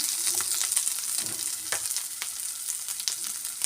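Green chillies and onions fry under a lid in a pan, giving a soft, even sizzle with faint crackles and pops throughout.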